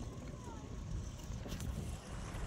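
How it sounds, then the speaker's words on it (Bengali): Wind blows across the open Hooghly river near a confluence during a boat crossing, producing a constant low rumble and buffeting against the microphone, with a faint hiss above it and no clear talk. "প্রচুর বাতাস করছে, ভালো লাগছে খুব।"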